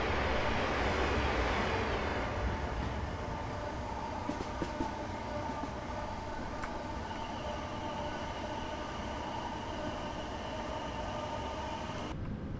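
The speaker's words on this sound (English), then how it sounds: "The Virgin Pendolino." A Virgin Pendolino train runs steadily in Train Simulator 2017, its constant rolling rumble and motor hum filling the whole stretch, with a faint tonal whine rising partway through.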